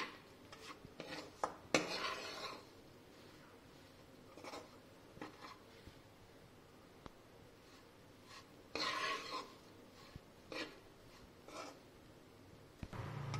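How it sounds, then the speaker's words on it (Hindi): Coconut and coconut powder mashed and mixed into ghee in a pan for coconut almond barfi, with intermittent scraping and rubbing strokes of a spoon, soft and close, with louder bursts now and then. "अच्छे से मैश कर देना है घी के अंदर नारियल और नारियल के पाउडर को"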